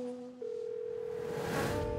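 A telephone dial tone sounds for a phone call, a steady continuous tone that shifts pitch once early on and then holds, fairly loud with a faint hiss, no voices.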